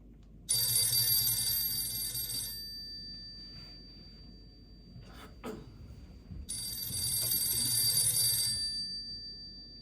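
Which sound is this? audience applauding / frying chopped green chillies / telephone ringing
telephone ringing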